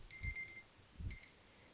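A timer alarm goes off at the end of a one-minute yoga tree pose hold, giving two short electronic beeping bursts about a second apart, each with a dull thump beneath it, and no voices.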